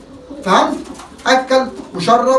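Pigeons coo in a loft where squabs are being raised, their soft calls mixed under someone speaking loudly in close, bursting phrases.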